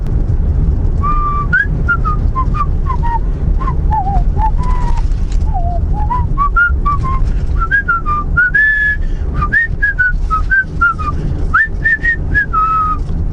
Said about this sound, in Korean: 막 휘파람이 나올라오네